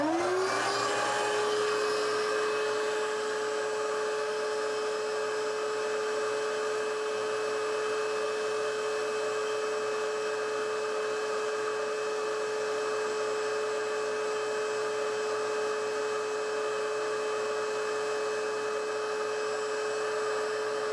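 A shop vacuum sucks directly through a sink drain line into the plumbing below, giving a steady, loud whirring drone with a sustained tonal whine that holds throughout, with no talking.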